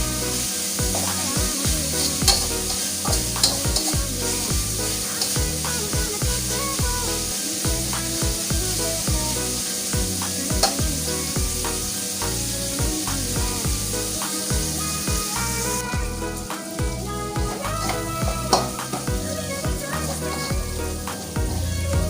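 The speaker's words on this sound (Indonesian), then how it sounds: "Kita tumis dulu ya sampai wangi ini aroma bumbunya atau sambalnya ini mantep deh." Balado chili spice paste sizzles steadily as it is stir-fried in a pan, with a continuous close hiss and a rhythmic scraping of a spatula against the pan throughout, with no speech.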